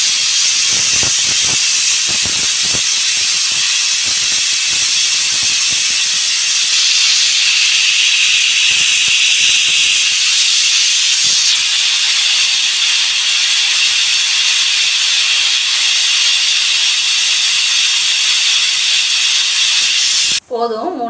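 Pressure cooker with the weight on, cooking chickpea pulao, hisses loudly and steadily as steam escapes for about twenty seconds, with faint rattling clicks early on and a sharp knock at the very end.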